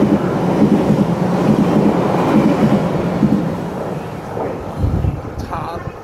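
A TEMU1000-series Taroko Express tilting train pulls out of a station bound for Taitung on the Hualien–Taitung line, its steady rolling rumble loud and close, then easing slightly as it moves off.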